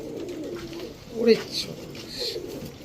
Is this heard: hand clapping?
no